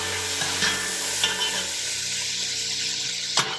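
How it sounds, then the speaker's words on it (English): Vegetables brown in a pot for a traditional Norwegian game stew, giving a steady close sizzle with occasional scrapes and stirs and no talking. "we'll start browning the vegetables"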